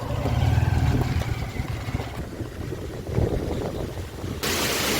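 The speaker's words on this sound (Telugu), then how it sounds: "నీళ్ళు ఎలా ఫ్లో అవుతున్నాయో డ్యామ్ నుండి" Rushing water from a dam roars loudly with heavy wind buffeting the microphone, the flow sounding broad and continuous before shifting to a brighter hiss near the end.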